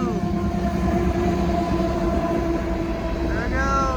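CSX freight train rolling past in a blizzard with potash cars: steady heavy rumble and clatter of wagons close by, with squealing wheel tones throughout and no talk.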